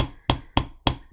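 Four crisp metallic taps from a small lightweight Wubbers hammer striking a rivet, evenly spaced and close, each a bright sharp click with a short ring.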